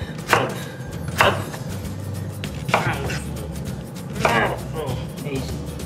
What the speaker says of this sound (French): je fais des petits morceaux pour que ça cuise plus vite